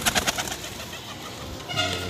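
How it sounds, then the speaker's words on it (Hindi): A slate-coloured pigeon coos close by, a few soft throaty calls at the start and another low coo near the end, with a quiet background between. "ये जी पकड़ा था, ये देखें स्लेटा कबूतर"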